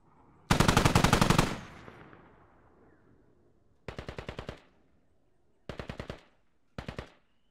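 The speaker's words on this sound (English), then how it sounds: "Seb getting some shots in on Enwin." Automatic gunfire in the military shooter game Squad: one long loud burst, then three shorter rapid bursts separated by pauses, sharp and close.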